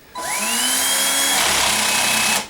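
A cordless drill spins freely with its clutch at the lowest setting, giving a loud, close, steady whine that rises as the motor spins up and cuts off after about two seconds.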